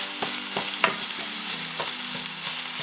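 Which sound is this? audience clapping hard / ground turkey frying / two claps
ground turkey frying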